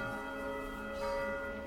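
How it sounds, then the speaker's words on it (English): Church bells toll as a sound effect in a Call of Cthulhu tabletop session, a dense, ringing wash of overlapping resonant tones heard alone and steady, moderately faint. "the bells fade into the distance"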